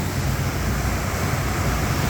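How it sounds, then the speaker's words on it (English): Weeks Falls, a waterfall at a hydroelectric project, gives a steady, loud broadband rush of falling water with no talk, holding constant throughout. "Weeks Falls is a very sacred waterfall."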